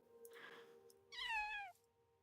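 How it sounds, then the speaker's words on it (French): A single cat meow in Minecraft, faint and fairly short, rising then falling, with a soft rustle just before it. "j'ai entendu un chat"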